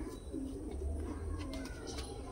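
Racing pigeons from a main breeding pair coo softly in a short, low, rolling murmur, close by and fairly quiet with no talk over it.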